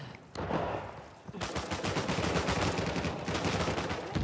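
Rapid automatic gunfire from a multiplayer match of the video game Uncharted 4, a short burst and then a loud, sustained stream of closely spaced shots after a brief pause.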